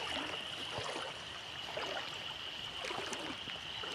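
Someone wades through knee-deep flood water during a downpour, a continuous close sloshing and gurgling of water under the hiss of heavy rain.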